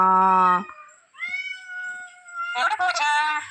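A cat meows loudly and close by, one long drawn-out meow followed by two more wavering calls.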